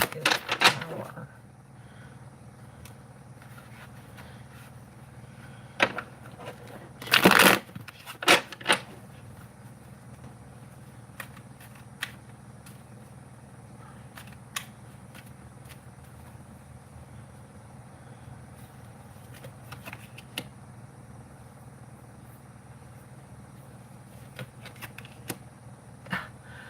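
Tarot cards being shuffled close by in short bursts of riffling and flicking, separated by long quiet stretches.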